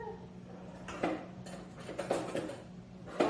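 Peanut butter cake ingredients are mixed in a bowl, with a spoon clinking and scraping against the sides in irregular strokes, close and moderately loud.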